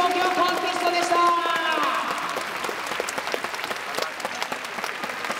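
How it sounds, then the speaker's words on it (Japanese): Audience applause at an outdoor stage show during the FC Tokyo Festival, with sustained clapping from a crowd and a voice talking over the start of it, before the clapping thins out. "最後に改めて、盛大な拍手をお送りください。"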